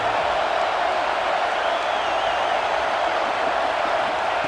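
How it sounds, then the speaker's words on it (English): A football stadium crowd at a Texas versus Auburn game roars steadily as the defense tries for a red zone stop. The dense, sustained wash of noise stays loud throughout, with no clear break. "And here comes the noise. This crowd is trying to inspire this defense to make a big red zone stop."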